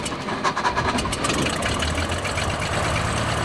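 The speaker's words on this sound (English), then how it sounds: "Then you start it." A Cessna 172 light aircraft piston engine runs at a steady idle after starting, a continuous broadband drone with a faint rhythmic throb, fairly close and with no talking over it.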